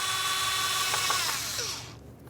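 A power tool spinning off a 10mm ignition coil mounting bolt on a 2011-2021 Jeep Grand Cherokee 3.6L V6, with a loud close whine that holds for about two seconds and then cuts off.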